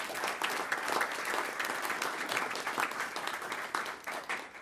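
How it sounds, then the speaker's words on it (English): Dense, steady clapping from a school district board meeting audience honoring high school track and field coaches, a close, lively round that holds its level for several seconds. "Let's have a nice round of applause for our coaches."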